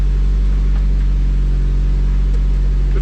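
A 1991 Nissan 240SX with its KA24DE four-cylinder idles through a new ISR exhaust, giving a steady, close, moderately loud low rumble that holds an even drone throughout.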